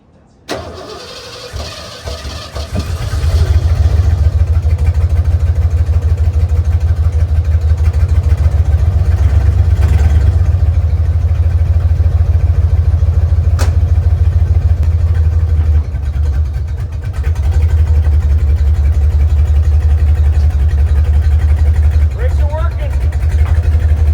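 A 1988 Ford F150 engine turns over and starts, then runs at a loud, steady low rumble as the truck is put in gear and driven, with brief revs and a voice over it.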